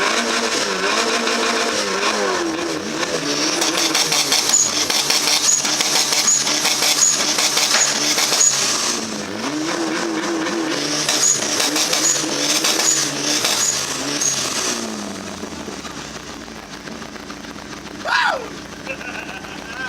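Boosted Honda Accord engine running loud and close with a steady roar, briefly rising and falling in a couple of revs; a short sharp squeak near the end.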